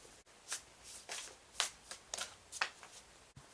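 Oracle deck of Spellcasting cards being shuffled by hand: a run of about eight crisp riffling bursts spaced roughly every half second, close and fairly quiet, with a sharp tap at the start and end and no talking.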